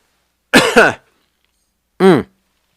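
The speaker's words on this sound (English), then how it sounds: "my cough, even though I'm still coughing, is getting a little better" A close, loud double cough, then a pause and a single harsher cough after it.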